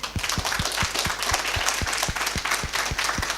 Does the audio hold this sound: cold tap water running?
no